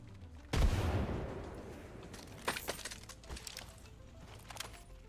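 Gunfire in a battle royale shooter, opening with a heavy blast, then scattered sharp cracks and rattling shots of varying loudness over a few seconds, with no talking.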